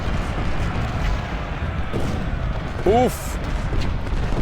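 Canister shot artillery fire in the Civil War strategy game Ultimate General, Battle of Prairie Grove: a continuous rumbling barrage of booms and crackling volleys under spoken commentary, with a brief whistling sweep partway through.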